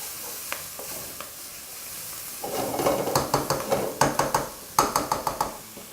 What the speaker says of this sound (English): turn down the heat a little bit, give it a quick mix.